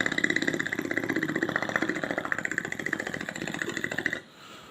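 Voice imitating a noisy diesel engine in a beatbox performance, a rapid, steady, chugging pulse with a buzzy idling rattle, held close and loud before stopping abruptly.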